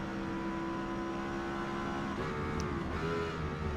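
Lexus LFA racing engine in the Forza Motorsport game at Silverstone, a steady sustained high-revving drone that dips and climbs again around a gear change, moderately quiet and uninterrupted.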